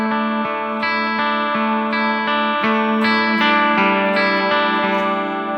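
Sustained guitar chords through a Boss GX-10 with a 6-second plate reverb ring out with a long, lush tail, each strum blooming and blending into a shimmering wash.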